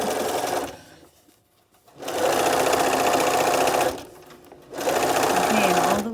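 A sewing machine stitches down a small pocket on a pleated fabric face mask, running in two steady, close bursts with a short pause between them, while a voice talks over the stitching.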